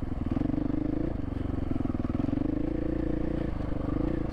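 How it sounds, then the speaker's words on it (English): Dirt bikes, a YZ250 two-stroke and a KTM 500, ride on tight single track. A close motorcycle engine burbles and revs in short pulses, shifting pitch as the throttle changes, with faint clatter and no talk. "Steve is on a, I don't know the year, but he's on a YZ250 two-stroke. Of course, I'm on my KTM 500"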